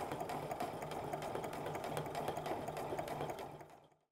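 A sewing machine stitches a one-eighth-inch decorative line along a handbag of quilting cotton or cork and canvas, a steady close mechanical hum that runs continuously and then winds down to silence at the end.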